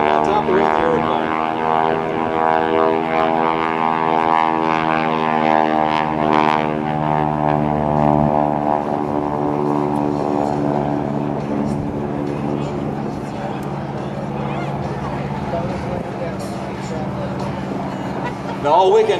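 A propeller airplane at an airshow drones loudly overhead with its smoke system on, its engine pitch sliding downward as it passes, with someone talking over the noise throughout.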